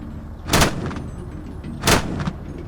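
A ZU-23 anti-aircraft gun in the Arma 3 video game fires two loud, sharp bursts about a second and a half apart. Each burst cracks across the whole range and trails off over a steady background hum.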